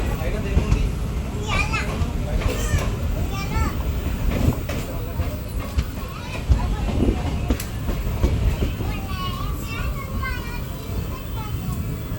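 Unreserved passenger train 57302 running from Medak to Kacheguda: a steady rumble and clatter of the carriage on the rails, heard from inside, under constant chatter of passengers and children's voices.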